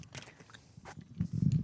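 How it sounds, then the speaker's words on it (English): A person chewing food right up against the microphone, soft wet mouth sounds building into louder, muffled close bites toward the end. "I'm just chewing into the microphone"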